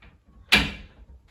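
A sliding closet door is lifted and set back onto its track, giving one sharp knock followed by a brief rattling decay, close and fairly loud against a quiet room.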